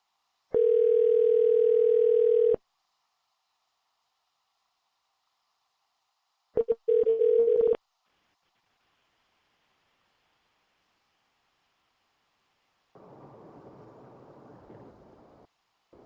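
A telephone dial tone on an outgoing call, a steady loud hum lasting about two seconds, then a broken stuttering burst of the tone, later a stretch of soft hiss, with no talking.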